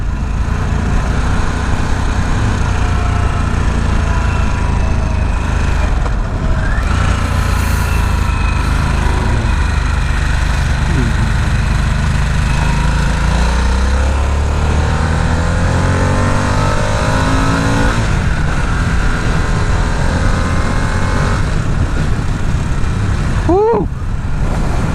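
A Harley-Davidson Sportster S motorcycle engine rumbles loudly and continuously while riding, with throttle rises and shifts in pitch, wind noise and occasional voices over it.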